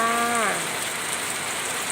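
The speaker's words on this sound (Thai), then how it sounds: "มาแล้วฝนมาแล้วจ้า" Rain falls steadily in a broad, even hiss of drops on surfaces, briefly overlapped at the start by a short tonal voice-like sound before the downpour continues alone.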